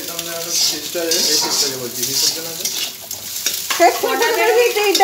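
Chicken pieces fry in a pan for chilli chicken, a bright sizzle with utensil clinks and stirring, heard close beneath ongoing conversation between people in the kitchen.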